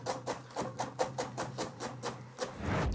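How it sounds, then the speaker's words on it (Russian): Quick, rhythmic knife chops on a cutting board cutting cilantro, about a dozen even taps at a brisk pace, close and fairly quiet. "Кинзу быстро режем."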